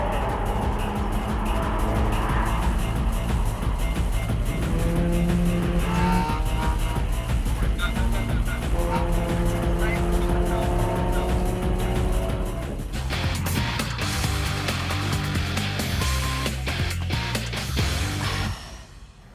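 A race car on a track holds a steady, loud engine drone through each gear, with rising revs and shifts and brief tire squeal, while a driver and instructor talk inside.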